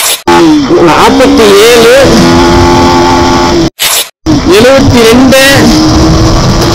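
KTM Duke 250 motorcycle accelerating hard through the gears on a top speed run, engine pitch climbing and dropping at each shift, loud and close under a rider talking over the noise.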